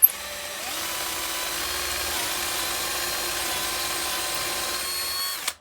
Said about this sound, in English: you can drill a lovely perpendicular hole in there